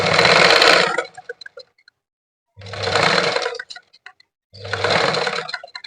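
A sewing machine runs in three loud bursts of rapid stitching with short pauses between, sewing a folded blouse lining about a quarter inch from the edge, close up and with no talking.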